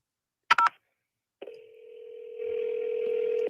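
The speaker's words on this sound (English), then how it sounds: "I don't like that ringtone." A mobile phone call is placed: a quick burst of dialing tones, a pause, then a long steady ringback tone that grows louder and continues alone in a quiet room.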